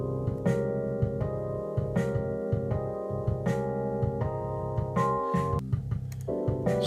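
Sustained chords in C Phrygian with the flat second, third, sixth and seventh, played over a steady groove, changing every second or so, fairly loud and continuous with no talking.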